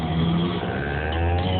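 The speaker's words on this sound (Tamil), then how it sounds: "என்னடா வண்டி நிறைய வர சத்தம் கேக்குது?" Several motor vehicles arrive in a street in Coimbatore, their engines a steady, loud, continuous rumble with a slight rising rev partway through, and no talking over it.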